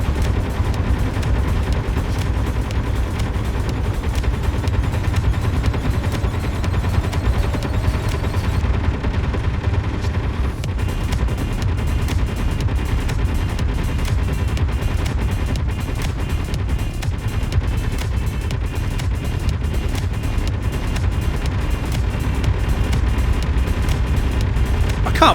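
Turret guns fire steadily at attacking Reavers in the Space Engineers wasteland, a dense continuous rattle of rapid shots and booms that carries on throughout, even in level and without pause.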